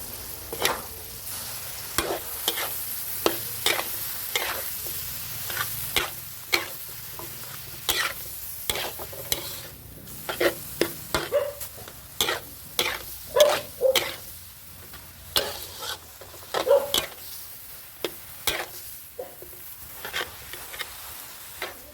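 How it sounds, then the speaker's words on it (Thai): Wai Wai instant noodles are stir-fried with sweet soy sauce in a pan, steady sizzling overlaid by frequent loud scraping and clattering strokes of a spatula as the noodles are tossed and mixed, close and continuous. "ใส่เครื่องครบทุกอย่างแล้วก็ผัดต่ออีกสักพักหนึ่งนะครับ ให้เครื่องปรุงที่เราใส่ไป ผสมคลุกเคล้าเข้ากันดีนะครับผม"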